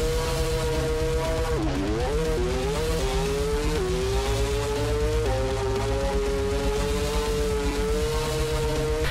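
A 3-rotor drag car engine in the Bounty Drag Racing video game revs hard and steadily, its tone rising, dipping and climbing again with each shift at a loud, constant level, with no voices.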